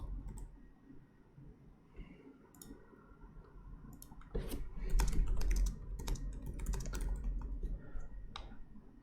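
Quick clicking keystrokes on a computer keyboard during an online poker session, faint at first and then a denser, louder run of taps, alone without talk.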